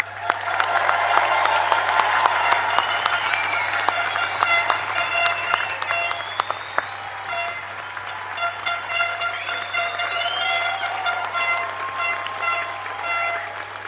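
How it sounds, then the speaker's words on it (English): A large graduation-ceremony audience applauds and cheers at length, a dense, steady wash of many hands with shouts mixed in, with a constant low hum underneath throughout. "let's raise the roof with a final round of applause to congratulate our graduates"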